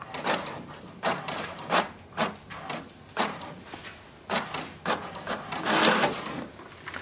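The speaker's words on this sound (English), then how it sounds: "It will send a command for the printer to print a page." An HP printer prints its information page with a rhythmic run of mechanical whirs, clicks and paper-feed shuffles, close and moderately loud.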